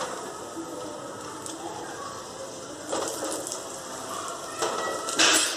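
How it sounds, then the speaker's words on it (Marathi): Mustard seeds, cumin and turmeric hit hot oil for a modak curry, giving a soft, close sizzle with a few louder crackling bursts toward the end and no talking. "त्यामध्ये आता आपण मोहरी टाकूयात. मोहरी, जिरे, हळद, तळलेले मोदक"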